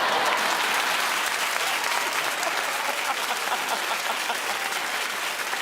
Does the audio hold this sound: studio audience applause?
yes